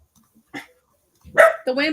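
A dog barks a couple of times close by, short sharp yaps breaking through as a person talks over it.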